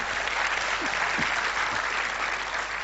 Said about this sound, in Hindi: जोरदार तालियों से उनका हार्दिक स्वागत